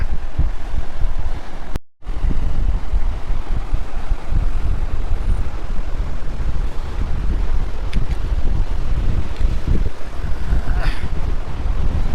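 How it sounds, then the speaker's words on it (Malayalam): Strong wind roars continuously and loudly against the microphone at Dingboche on the Everest Base Camp trek, a dense rushing buffet with a brief cut near the start. "നല്ല കാറ്റ്, നല്ല കാറ്റ്"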